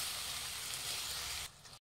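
Ivy gourd (tondekayi), boiled beforehand with salt and turmeric, sizzling in a pan as a bright, even hiss that cuts off sharply near the end.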